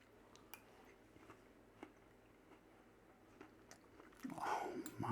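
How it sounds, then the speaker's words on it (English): Someone bites into a whole apple strudel with the apple baked inside, giving faint crunchy chewing clicks that end in a louder, closer crunch. "That apple has a little bit of crunch to it inside there that's been holding it all together"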